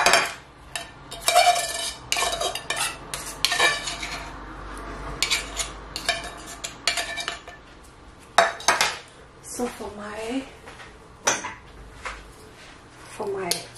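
Canned fish mixed with its own oil in a bowl, with repeated close clinks and scrapes of a utensil against the dish, some soft talking in between.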